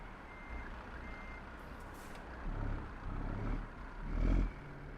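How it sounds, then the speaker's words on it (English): A Kenworth W900 truck with a long, lowered setup backs up in American Truck Simulator, its faint reversing alarm beeping at a steady pace over a low engine rumble, with a couple of air-brake hisses. "I'm having some problems backing this thing up."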